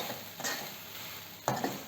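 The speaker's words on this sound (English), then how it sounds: "We are going to give it a nice mix." Cooked rice being mixed in a pan for South Indian coconut rice: soft scraping stirs with a couple of brief spatula knocks against a faint sizzling background.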